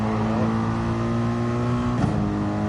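A race car engine in Gran Turismo Sport drones loudly and holds a steady, high pitch as the car powers out of a turn, with a brief bump in the sound near the end.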